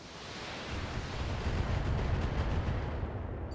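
A heavy, sustained roaring blast of mech weapons firing in the BattleTech video game, building over a few seconds into a dense rumbling wash, loud and uninterrupted with no talk.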